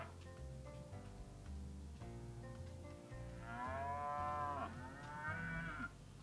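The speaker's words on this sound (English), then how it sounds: "Why are you hearing cow noises?" Cattle mooing in the farming game Farm Manager World, several long, drawn-out lowing calls with wavering pitch, clear and close over a steady low ambient farm hum with no talk.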